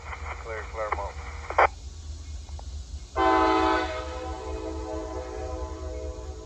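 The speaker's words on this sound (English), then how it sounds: "Here comes a coal train. Westbound coal train, 3 locomotives." Westbound coal train hauled by three locomotives, heard as a low steady rumble with a loud horn blast about halfway through; crackly radio voices talk beforehand.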